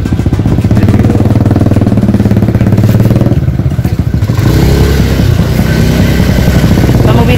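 A motorcycle rides in between the stilt houses of a Badjao fishing community in Tubig Indangan, Simunul, Tawi-tawi, its engine loud and close with a steady, rattling drone throughout.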